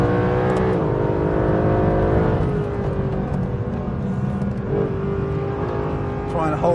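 A 630-horsepower Mercedes SLS AMG Black Series roars steadily on a race track, its loud sustained engine note shifting in pitch as the car works through corners.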